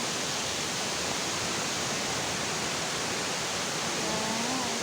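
Steady broadband rush of a stream flowing at Hinulugang Taktak, a continuous watery hiss filling the scene close by, with faint tonal sounds drifting in near the end.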